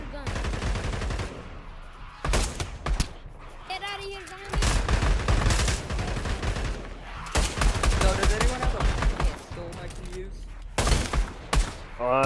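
Bursts of gunfire in the Pavlov VR zombies mode, loud and repeated in clusters, mixed with excited voices talking and shouting over the shots.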